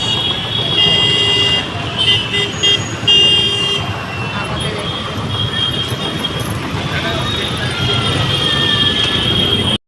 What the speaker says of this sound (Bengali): তোমাদের দাদাভাই খুব জোরে গাড়ি চালাচ্ছে